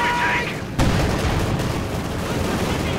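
Heavy mortar and gunfire sound in a Company of Heroes 2 1v1 match, with a dense, sustained rumble of battle noise and one sharp blast near the start.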